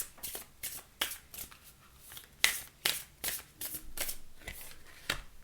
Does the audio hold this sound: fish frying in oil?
no